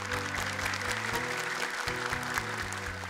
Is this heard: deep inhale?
no